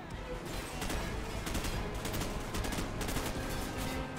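Dense, continuous automatic gunfire from Call of Duty 4: Modern Warfare rattles without pause, with rapid overlapping shots forming a thick, loud fusillade throughout.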